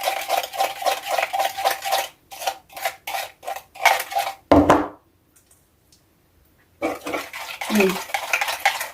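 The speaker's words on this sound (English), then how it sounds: "I'm going to stir to mix it all up." Rhythmic scraping and clinking strokes of a utensil stirring duck marinade with olive oil in a bowl, close and fairly loud, a burst of rapid strokes, a pause of near silence, then more stirring.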